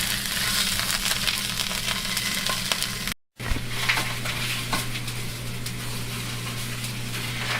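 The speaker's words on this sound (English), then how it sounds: "the whole idea of what we're doing is to brown the sausage, not necessarily cook it" Italian sausage sizzles and fries steadily in a hot pan, with occasional stirring and scraping of a utensil against the pan, close and continuous with a brief break.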